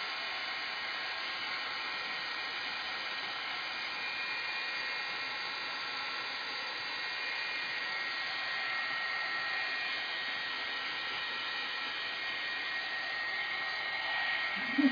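A heat dryer blows a continuous, even whoosh for about fifteen seconds while drying a layer of scrapbooking medium on a craft page, steady and alone with no talk.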